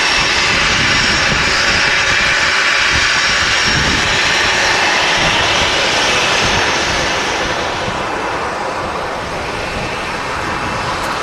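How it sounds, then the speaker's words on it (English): A Boeing 737-800 with CFM engines roars loudly at Manchester Airport. The broad, steady jet noise holds for the whole stretch and eases slightly near the end. "737-800. CFM engines. Not quite as loud and as aggressive as the Rolls-Royce on the 757,"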